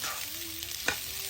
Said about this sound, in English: Sausage stir fry.